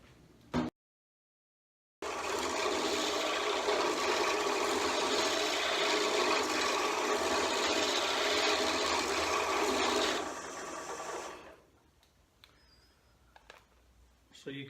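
A lathe spins a Celtic knot pen blank, giving a steady loud whirring hum for several seconds that then winds down and fades, with someone speaking briefly near the end.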